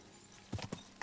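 Horse hooves clip-clop at a walk while riding through a town in the video game Kingdom Come: Deliverance 2, a few soft, close hoofbeats arriving after a quiet start.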